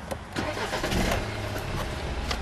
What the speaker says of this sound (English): Let's turn the car on quickly.